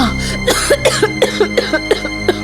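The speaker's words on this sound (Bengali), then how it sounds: "কাশিটা কিছুতেই কমছে না।" A woman coughs repeatedly in a dramatized scene, a rapid series of about a dozen harsh, close coughs coming in quick bursts with short gasps between them, loud and with no other speech.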